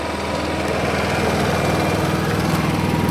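A Honda 7k generator drones loudly and steadily while powering a Miller 212 MIG welder, its engine note constant and close throughout.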